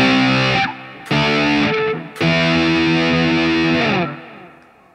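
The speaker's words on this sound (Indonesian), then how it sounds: "Jadi ini settingan yang saya gunain kalau pengen pakai gitar listrik biar ada efek digitalnya" Electric guitar run through digital effects from a cellphone app, three distorted chords strummed and held, each ringing out with shimmering modulation before cutting off, played alone with no talk.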